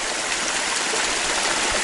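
Stream water rushing steadily over a beaver dam at a lake outlet, a loud, close, continuous splashing and gurgling with no talking.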